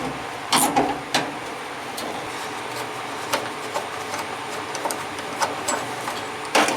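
Bolts being worked loose on the gas tank of a 1972 Chevy C10 pickup, a scatter of sharp metallic clicks and knocks over a steady background hiss, irregularly spaced and fairly close.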